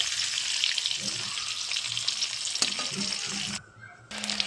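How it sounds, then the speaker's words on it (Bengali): Halved boiled eggs fry in hot oil in a pan, a steady close sizzle running through most of the clip with a few stirring clinks, cutting out briefly near the end before resuming. "ডিমটা ভাজা হচ্ছে ঠিক এইভাবে লাল লাল করে ভাজতে হবে"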